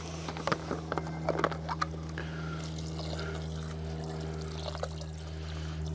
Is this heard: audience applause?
no